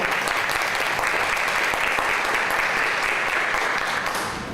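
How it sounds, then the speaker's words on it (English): Loud, dense applause from an audience at a community event fills the space steadily, tapering slightly at the end. "A round of applause to Ms. Walker"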